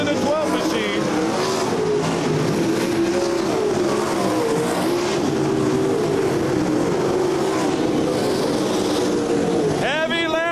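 Race cars in a MOWA race lap through heavy traffic, their engines forming a loud, steady, continuous roar with shifting pitch as cars pass, and a voice speaks over it.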